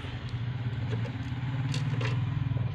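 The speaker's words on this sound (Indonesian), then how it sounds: "Suara kendaraan motor." A nearby motorcycle engine putters with a steady low rumble as it passes on the street, accompanied by faint clattering and scraping sounds.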